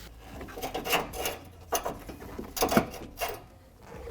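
Hand-unthreading a crash bar bolt on a 2021-2022 Ford Bronco: quiet metallic scraping and ratchet-like ticking in several short bursts, close by and fairly faint, with no talking.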